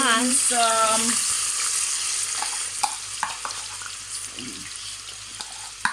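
Peppers and onions frying in a pan, with a steady sizzle throughout, a brief tonal squeal at the start, and scattered clicks and scrapes of stirring.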